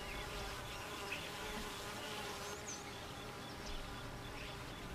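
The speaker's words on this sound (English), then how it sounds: "Honeybees are social insects in the family Apidae, order Hymenoptera" A steady, dense insect buzz of honeybees fills the scene, continuous and close, with faint chirps of birds now and then in the background.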